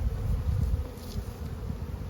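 Honey bees buzz steadily around an open spring hive during a beekeeping inspection, a dense low drone from many bees close by, continuous and moderately loud.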